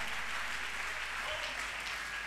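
Congregation applauding during a church service, a steady wash of clapping from many hands that carries on without a break, fairly soft and diffuse.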